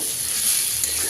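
Pointed gourd and jackfruit seed curry sizzles steadily in a pan, a continuous close, even frying hiss with no talk.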